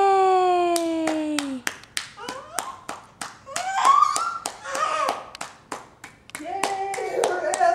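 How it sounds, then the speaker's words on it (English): A young child clapping hands, a run of sharp separate claps in an uneven rhythm, close by, while a child vocalizes and an adult voice chimes in between the claps. "Can you clap?"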